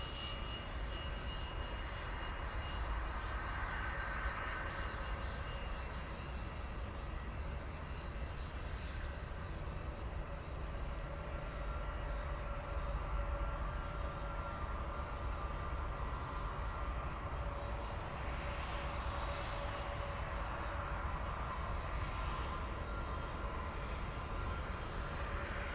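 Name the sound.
Lufthansa airliner intersection takeoff at Munich airport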